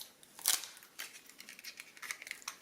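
Scissors snipping through tape at close range, several quiet, crisp cuts and clicks in an uneven rhythm with faint crinkling between them, and no talking.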